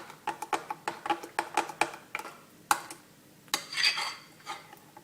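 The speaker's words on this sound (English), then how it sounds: "Now you should just be able to stir that chocolate that's melted around" A spoon clinks rhythmically against a bowl while stirring melted chocolate, a series of quick, close, evenly spaced taps followed by a softer scrape.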